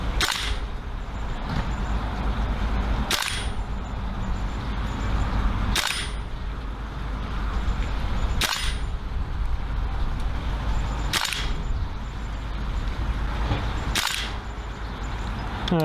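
Six sharp, loud cracks of a Marui AKM gas blowback airsoft rifle firing heavy BBs, spaced about every two to three seconds over a faint steady background hiss.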